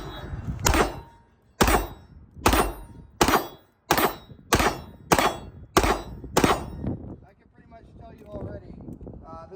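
Rapid heavy gunfire from a machine gun at an outdoor shooting range, about nine loud, sharp reports in a steady rhythm, each trailing into a brief echo, followed by quieter rustling.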